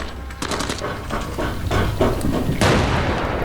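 Explosions and gunfire in the video game Arena Breakout: Infinite: a series of sharp, loud cracks in uneven rhythm ending in a heavier blast near the end.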